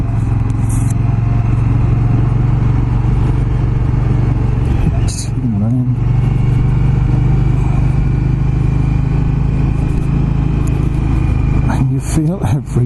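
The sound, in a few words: Indian Scout Bobber motorcycle riding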